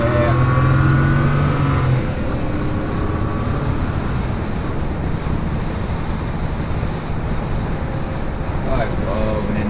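BMW with an N54 engine accelerating hard to pass a truck, a loud sustained engine roar with rising tone, heavy wind and road noise throughout, close and steady.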